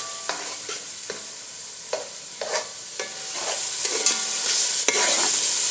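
Tomato masala stirring and frying in a pan for Lahori dhaba-style egg chana: a steady sizzle with repeated scraping strokes of a spoon at a regular rhythm, close and fairly loud, the frying growing louder toward the end, no talk.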